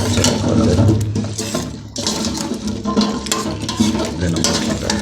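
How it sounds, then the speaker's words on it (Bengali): Sweet pumpkin pieces coated in spices are stirred in a pan, giving close, loud scraping and shuffling strokes with a light sizzle, and a brief pause partway through. "এখানে আমি মিষ্টি কুমড়াটা নাড়াচাড়া করবেন"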